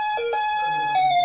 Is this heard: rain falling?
no